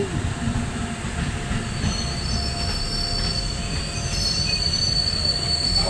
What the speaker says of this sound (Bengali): মানে এটা ঢুকছে হেচকির লোকাল ট্রেন